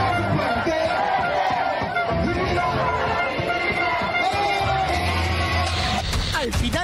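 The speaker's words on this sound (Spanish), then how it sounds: "todos corearon en señal de rechazo al actual" Crowd of transport workers protesting in Peru against the government, loud continuous shouting and chanting with chatter and yells, close and busy throughout.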